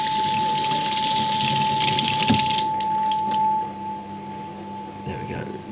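Tap water gushes loudly while soapy residue is rinsed off, a hard rushing stream for a couple of seconds before it cuts off, with a voice heard around it.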